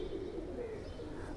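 Paired pigeons of a Ferozpuri and Faqeergull mix in a home loft, soft low cooing that runs throughout, fairly faint and close.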